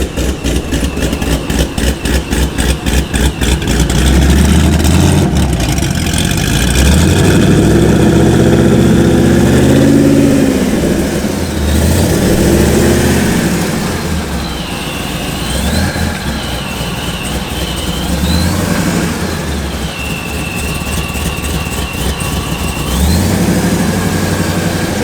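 A cammed V8 in a C5 Corvette idles loudly with a choppy, lopey rumble, its pulses uneven and occasionally swelling, with no voices present.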